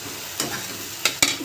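Potatoes and flour are stirred and fried in a pan for chilli paratha, giving a soft continuous sizzle broken by a few sharp scraping strokes of the spoon.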